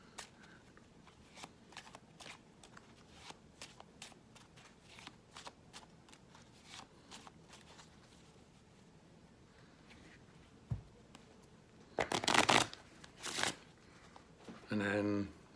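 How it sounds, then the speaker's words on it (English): A deck of playing cards being shuffled: a long run of quick, crisp snaps, then louder riffling bursts near the end; a voice speaks intermittently. "We'll get it shuffled into the deck."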